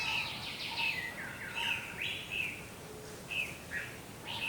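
Several birds chirp and whistle in short bright phrases, with about six distinct calls spread across the few seconds, each fairly close and clear above a soft, steady background hiss.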